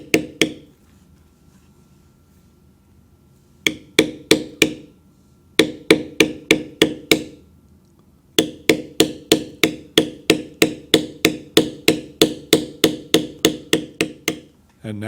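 A mallet taps a beveling tool into leather in crisp, close, evenly paced knocks. A few isolated strikes come first, followed by a long steady run of rhythmic blows.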